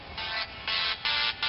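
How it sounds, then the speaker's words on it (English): A phone rings during a carp fishing session while breakfast is cooked, four steady electronic ringtone bursts sounding fairly clear with short gaps between them. "phone's ringing."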